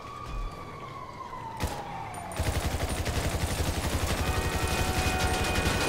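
Rapid automatic gunfire in Grand Theft Auto V, a dense, steady stream of loud shots starting after a couple of seconds, layered over a wailing police siren and engine noise.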